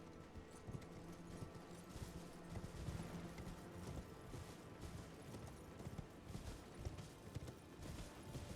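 Horse hooves clip-clopping in the Elden Ring video game, a steady rapid patter over a dense, busy bed of game ambience, faint overall with no talk.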